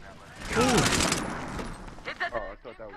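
Gunfire in the Medal of Honor Warfighter video game crackles as a loud burst of automatic shots early on, fading into scattered pops while someone shouts over the fight.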